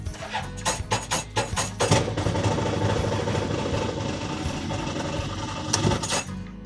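Engine of an old off-road vehicle with a hole in the floorboard being started: a run of rhythmic cranking pulses, then a rough, loud idle that roars briefly near the end before settling, no talking.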